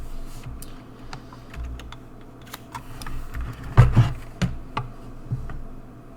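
Keys clatter on a computer keyboard in irregular bursts of clicks, with one heavier cluster of strikes partway through, close by over a low steady hum.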